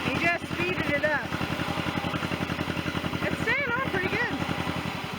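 A steady tractor engine driving a hammer mill corn grinder chugs with a rapid, even rhythm while someone talks over it nearby.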